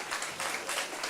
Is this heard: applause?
yes